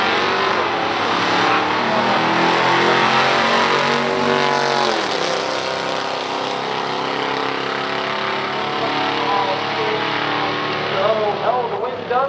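A 1970 Buick Skylark and a 1963 Studebaker Avanti roar down a drag strip in a stock drag race, loud engine noise sweeping past and fading, with a commentator talking over it throughout.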